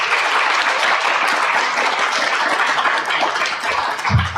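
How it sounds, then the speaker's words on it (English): A crowd at a state poetry recitation finals gives sustained, even applause that stays loud and dense from start to finish, with a brief low bump near the end. "Let's give these individuals a round of applause."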